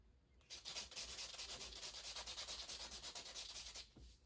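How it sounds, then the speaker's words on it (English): An 800 grit soft touch sanding pad rubs back and forth in quick, even strokes, close and steady, with about two dozen rhythmic scratchy passes before it stops. "Another trick I've used is this sanding pad. It's 800 grit soft touch."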